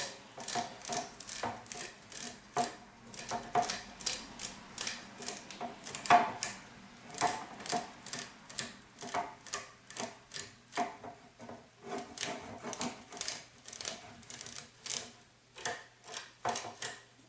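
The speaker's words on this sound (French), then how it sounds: "on coupe comme ceci pour séparer tous les bras" Bowstring silencer being cut to separate its arms, a run of short dry snipping or rasping strokes repeating in a quick, steady rhythm, close and fairly quiet, with no talking.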